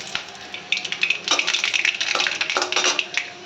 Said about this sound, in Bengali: তেলটা গরম হয়ে গেছে, দিয়ে দেবো সর্ষে আর শুকনো লঙ্কাটা